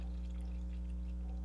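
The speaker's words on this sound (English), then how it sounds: "I'm going to pour the warmed coconut milk into my jar." Warmed coconut milk is poured into a jar for vegan yogurt, a steady, close liquid stream with a low hum beneath it, continuous with no talking.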